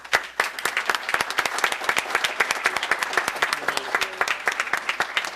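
An audience at a town board meeting gives sustained applause, dense, crisp clapping from many hands filling the room for several seconds at a steady, lively pace.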